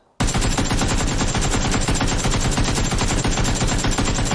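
Continuous loud automatic rifle fire in the shooter game PUBG on console, a rapid unbroken stream of shots from start to finish with no talking.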